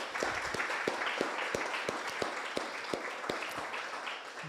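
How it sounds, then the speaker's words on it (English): Ribbon cutting ceremony crowd applauding Prospera, an affordable housing provider, at an outdoor gathering; a steady wash of clapping with a few sharp, distinct claps standing out, fairly quiet and distant overall. "So let's give them a round of applause for."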